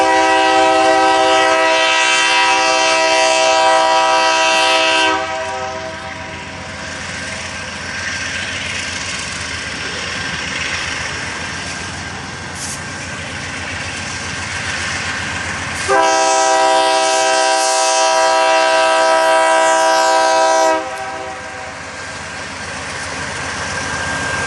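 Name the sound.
freight train with two locomotives moving slowly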